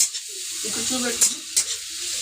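Chicken curry masala fries and gets stirred in a pan, with a steady sizzling hiss and a few sharp scraping clicks near the middle of the short stretch. Some faint talk-like murmur sits underneath.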